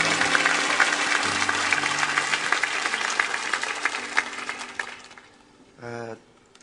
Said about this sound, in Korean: 좋은 찬양을 들려준 우리 귀한 형제 자매님들께 우리 한 번 더 큰 박수로 축복합니다.